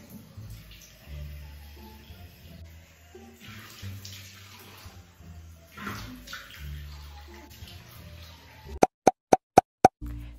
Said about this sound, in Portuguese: agora eu vou tirar com água mesmo